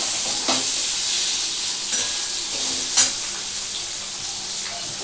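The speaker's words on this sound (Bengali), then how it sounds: "ঝাল লঙ্কা গুঁড়োই দিলাম এটা খুব আলতো করে আমি একটু ভাজবো" Hot chili powder gently frying in oil in a pan, a quiet continuous sizzle and hiss with a few light stirring clicks, close and without talk.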